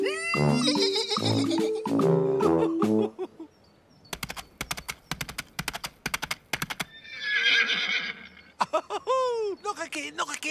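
A cartoon horse whinnies loudly in a children's animated programme, followed by a run of crisp clip-clop hoofbeats and a second neigh, with voices talking around the sounds.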